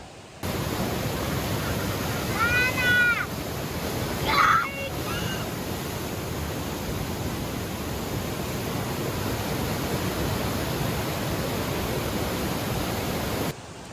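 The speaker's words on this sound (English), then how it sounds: "it cooled down a little bit, but about 2 hours ago, this was a wild and raging river" A river in Costa Rica, recently wild and raging, rushes as a constant broad roar close by; a few brief bird or whistle-like chirps rise above it early on, with no talking.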